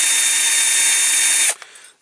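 An electric drill whirs steadily and loudly into a Matchbox Kingsize Aveling-Barford road roller toy under restoration, a sustained high whine running about a second and a half before stopping abruptly, followed by faint mechanical rattles.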